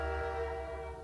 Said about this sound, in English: Sorry, train's going by.